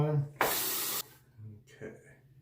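A Hoffritz slant razor is rinsed under running water during a shave, making a short, sharp spray of about half a second, then quieter splashing, with a voice speaking briefly around it.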